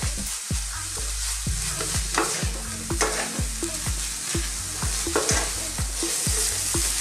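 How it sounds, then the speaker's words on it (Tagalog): Minced chicken fries in a hot pan, a steady close sizzle broken by repeated scrapes and knocks of a spatula as the meat is stirred in an uneven rhythm. "So lulutuin lang natin yung ating minced chicken for about 5 minutes."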